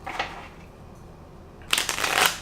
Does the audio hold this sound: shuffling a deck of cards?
yes